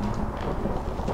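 Thunder rumbles in the horror video game Outlast, a low rolling roar mixed with rain-like hiss, continuous and fairly loud over a brief moment.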